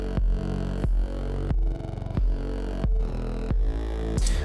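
Kick drum from the opening section of an electronic track, a deep punchy thump repeating at a steady pulse roughly every two-thirds of a second, with a sustained low hum between hits.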